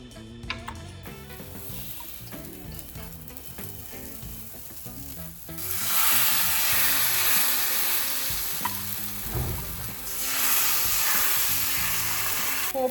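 Rava dosa batter sizzles on a cast iron tawa over a low flame: a quiet stretch with a few scrapes, then a loud, bright hiss that rises abruptly, dips briefly, and swells again.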